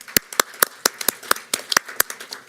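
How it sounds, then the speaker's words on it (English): Sharp, distinct handclaps from a few people close by, a loose rhythm of sharp slaps about four per second, acknowledging a school JROTC unit and band performers. "Let's give another round of applause for both our JROTC and our performers."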